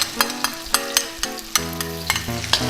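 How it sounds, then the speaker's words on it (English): Chilies and garlic frying in a hot pan, with a loud continuous sizzle and regular scraping stir strokes of a utensil against the metal, close up and with no voices. "And then you put chilies and garlic in."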